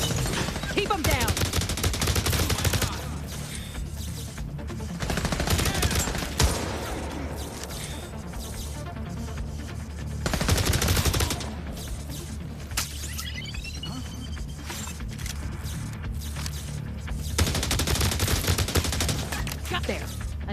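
Bursts of automatic gunfire from the video game The Division Resurgence, arriving as several dense volleys of rapid shots with quieter gaps between them, loud and close.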